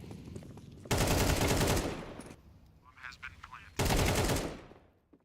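Rapid gunfire in the Counter-Strike video game from a Mag 7 shotgun during an esports match, two loud, dense bursts of shots about three seconds apart with quieter clinks and game noise between them.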